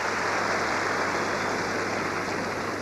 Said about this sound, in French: Vous pouvez applaudir, mesdames et messieurs, c'est tout à fait mérité.